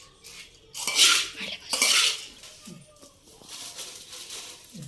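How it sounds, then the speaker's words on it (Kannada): A spoon clatters and scrapes around a bowl while bhelpuri of puffed rice is tossed with lemon juice, in two louder bursts of stirring followed by softer scraping. "ಸ್ವಲ್ಪ ನಿಂಬೆಹಣ್ಣು ಹಾಕ್ಕೊಂಡು ಮಿಕ್ಸ್ ಮಾಡೋಣ"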